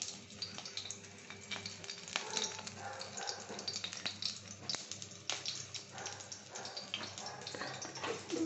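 Whole spices and a bay leaf sizzle in hot mustard oil in a pan, a steady soft crackle and hiss with faint clinks, close but fairly quiet, without speech.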